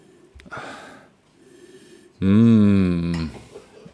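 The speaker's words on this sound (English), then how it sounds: "Let's have a sniff." A few soft sniffs and breaths as a glass of dark Shiraz wine is smelled, followed by a long, loud nasal inhale close to the microphone, then quiet.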